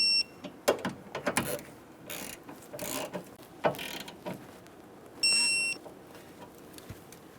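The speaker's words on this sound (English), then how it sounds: "Torque all of the 10mm bolts to 10 foot-pounds." Ratcheting torque wrench tightening 10mm bolts on the AC condenser of a 2014-2018 Chevrolet Silverado, a series of short, close mechanical clicks and clatters in irregular bursts, with a brief electronic beep near the end.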